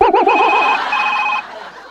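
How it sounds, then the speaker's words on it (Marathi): A telephone rings during a Marathi stage comedy sketch: a steady electronic ringtone tone sounds for about a second, over a warbling, voice-like sound and busy background. "अय्या मामांजींचा फोन आला"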